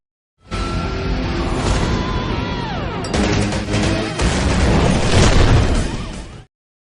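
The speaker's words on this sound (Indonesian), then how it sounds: "ruangan operator meledak dan membuat komisaris tewas" A room blows up in an Indian film: a loud, sustained explosion that bursts in abruptly and roars with crashing debris and rumble for about six seconds, swelling again near the end before cutting off.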